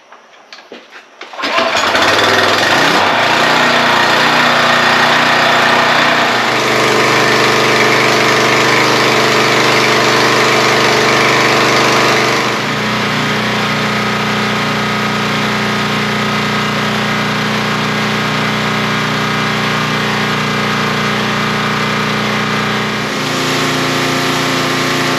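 A gas-powered pressure washer engine cranks, catches and roars up to speed, then runs loud and steady at a high idle, with small shifts in pitch, close by and with no talk over it.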